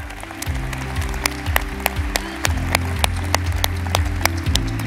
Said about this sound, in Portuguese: Um aplauso para todos vocês